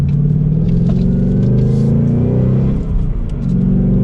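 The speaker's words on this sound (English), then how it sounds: "As we come up to a turn, we can rev match these downshifts." 2022 Ford Mustang GT coupe V8 engine, a loud deep rumbling burble with sharp blips as it rev-matches through downshifts, close and continuous with a brief dip before picking back up.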